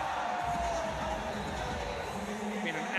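Stadium crowd at a junior men's hockey World Cup match between India and Canada in Lucknow, a steady dense roar of cheering and chatter with music, while a commentator talks over it throughout.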